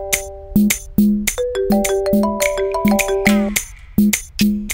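A mobile phone rings with an incoming call, a loud, close melodic ringtone of repeating chiming notes in a bouncy rhythm that plays on without pause and with no voices over it.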